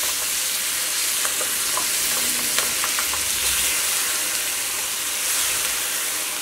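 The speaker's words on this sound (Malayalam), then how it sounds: "ഇതിലേക്ക് കുറച്ച് സോയാ സോസ് ചേർക്കുന്നുണ്ട്." Soy sauce hits a hot pan and sizzles steadily, a loud, continuous frying hiss with faint stirring clicks in a home kitchen.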